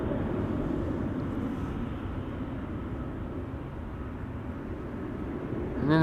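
An ITA Airways airliner at Amsterdam Schiphol Airport gives a steady, broad jet roar that holds level and swells slightly at the end.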